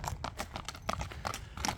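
A bay horse in a village moves with quiet, rhythmic hoof clip-clops: a string of soft, evenly spaced knocks with no speech.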